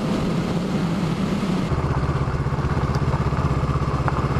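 A vehicle rolls along an old rough road past a former mine and rockslide debris field, its engine droning steadily and close, with a rhythmic pulsing clatter that sets in partway through.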